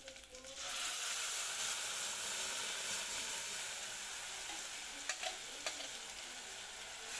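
Ground paste is stirred into sautéed onions in a hot pan for a tomato sambar, giving a steady loud sizzle with scraping spoon strokes and a few sharp clinks near the end.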